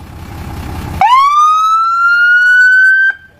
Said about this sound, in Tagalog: Yan, yung wangwang.